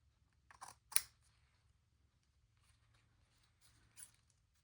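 Scissors snipping paper for a junk journal, a couple of close, sharp cuts with a quieter snip later, over a faint low hum in an otherwise quiet room.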